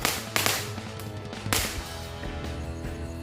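Firecracker shots from a magic ball Roman candle fired at night, sharp cracks bursting out at irregular intervals, a few louder pops standing out over a lingering hissy crackle.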